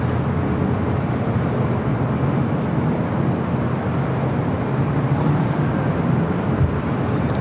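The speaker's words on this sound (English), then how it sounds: "Queen Air Cargo 777 freighter taking off there on 25 left on the south side" Boeing 777 cargo freighter of Queen Air Cargo taking off from runway 25 Left at LAX, a steady broadband jet roar that holds loud and even throughout without letup.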